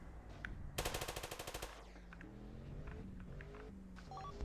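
A rapid automatic burst of gunfire in a GTA roleplay video game, about a dozen close, loud shots fired in quick succession, followed by quieter in-game engine and ambient sounds, with no talk.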